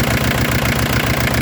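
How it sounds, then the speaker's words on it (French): Peugeot 205 TD diesel engine running unevenly at idle, a loud, close, rapid knocking pulse with a slightly irregular beat over a dense mechanical roar. "Le moteur boite un peu."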